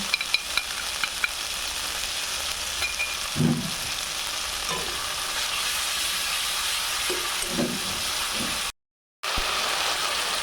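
Chilli and turmeric powder sautéing in hot oil in a pan, a steady soft sizzle and crackle throughout with a few brief stirring scrapes, close by, cut by a short gap of silence near the end.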